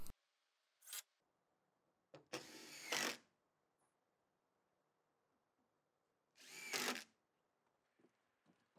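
A power drill drives coated screws into shed wall sheeting: three loud whirring bursts, the longest running about a second, spaced apart with quiet pauses and small knocks between them.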